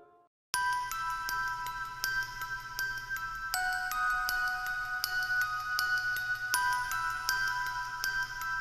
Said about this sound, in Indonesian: Itu kan suara alarm CCTV.